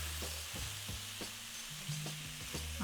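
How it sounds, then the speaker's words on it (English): Pumpkin talkari stirred in a pot on the stove, a steady sizzle broken by repeated soft spoon scrapes and knocks, close and moderately quiet, with no talking. "All right, you stir this up."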